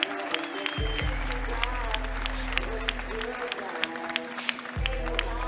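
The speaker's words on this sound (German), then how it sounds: "Ihr Applaus für Alex Buss!" Crowd at a Munich MMA welterweight event applauds and cheers a fighter's introduction, a loud, sustained wash of clapping with low rumble, under an announcer's voice and arena noise.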